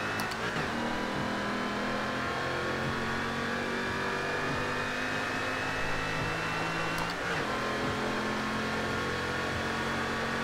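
A 2005 Ford GT engine in Forza Horizon 2, accelerating from a launch with a steady rising drone, then briefly dipping at a gear shift around seven seconds before climbing again.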